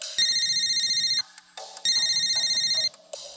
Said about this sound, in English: Check out this ringtone.